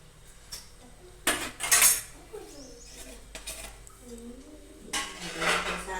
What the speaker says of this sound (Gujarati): સારી રીતે હલાવી લઈશું.